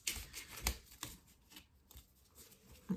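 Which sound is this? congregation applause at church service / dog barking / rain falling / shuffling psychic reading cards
shuffling psychic reading cards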